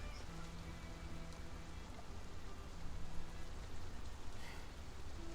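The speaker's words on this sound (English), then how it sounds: "you feel what has begun to be a drizzle of rain beginning to fall from the sky" Light rain drizzling steadily as a tabletop-game ambience, a soft, even patter and hiss that stays faint and continuous with no voices or other sounds over it.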